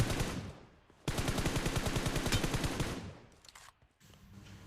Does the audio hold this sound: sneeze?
no